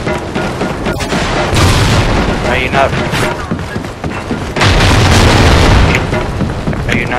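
Loud, repeated explosions from a dildo launcher in a multiplayer video game, booming bursts stacked over constant game noise while players talk over the action.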